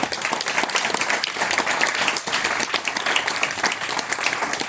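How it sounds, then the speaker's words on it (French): An audience at a talk show event applauds a speaker, dense steady clapping filling the space evenly without a break. "On peut l'applaudir encore une fois."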